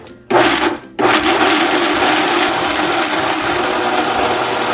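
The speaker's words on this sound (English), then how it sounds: "buti lang powerful tong ating blender" A kitchen blender runs at full power blending corn for homemade kalamay, a loud, steady whirring roar after two brief starts in the first second, with no talk over it.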